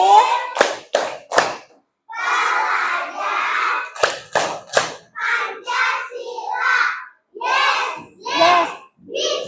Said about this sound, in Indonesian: Oke, tepuk tangan semuanya.